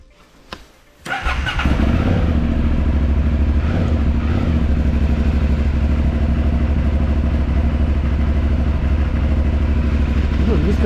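An 2008 Aprilia Shiver 750 motorcycle starts up, then settles into a steady, loud, close idle that runs on unbroken, with faint background noise before the engine catches.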